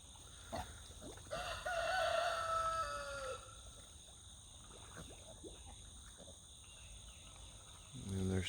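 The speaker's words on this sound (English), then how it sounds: "we got little Dougie the rooster" A rooster crows once at moderate distance on a small farm, a drawn-out cock-a-doodle-doo over quiet outdoor background with faint insects and soft clucks.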